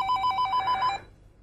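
A home telephone rings in a quick series of short, trilling electronic bursts for about a second, then falls silent; the ringing is clear and close, with no voices.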